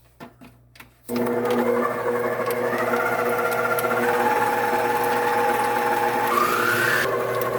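An electric mixer creams butter for a Kentucky pound cake, starting after a few faint clicks and then running as a steady, loud, even whir that continues without a break.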